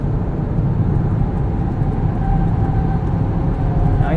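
A 2017 Volkswagen Golf Alltrack TSI SE manual wagon accelerates up an entrance ramp, a steady low engine drone and road roar from inside the cabin.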